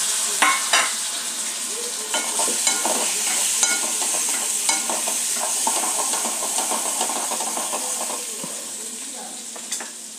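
Potatoes frying in a pan with sambar powder and salt, a steady close sizzle and hiss broken by repeated scraping stir strokes, with no talking.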